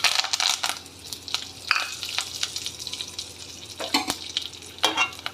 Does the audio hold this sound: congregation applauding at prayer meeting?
no